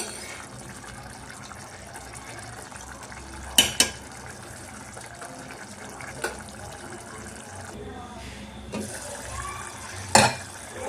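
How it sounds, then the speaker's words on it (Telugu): Thick green pea and tomato curry is stirred in a pan, a thick sizzling bubble underneath and a few sharp spoon clanks against the metal at irregular moments. "ఒకసారి మూత తీసి కలుపుకున్నామండి బాగా"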